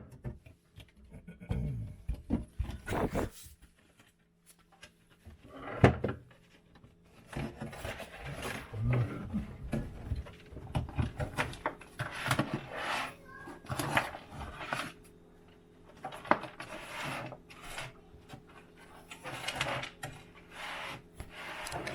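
Sheetrock is torn and scraped out behind a kitchen sink cabinet, giving irregular bursts of rough crumbling and scraping with pauses between them, close and fairly quiet.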